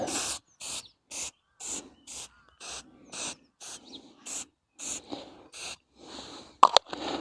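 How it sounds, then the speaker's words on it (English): Hairspray is puffed onto dried tablescape topiary plants in about a dozen short, evenly spaced aerosol bursts with brief pauses between them, fairly close and with no talking. "If I get some hairspray and fix them."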